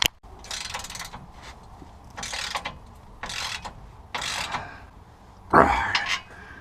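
Ratchet wrench tightening exhaust clamps on a Jeep SRT8 during a Borla exhaust install, several bursts of rapid clicking separated by pauses, close and clear, ending with a louder metallic clank.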